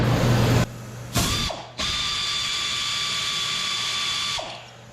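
Power ratchet or impact tool working the last exhaust bolt loose on a truck, close high whirring bursts: a short spin, a brief one, then a long steady run that winds down, no talking.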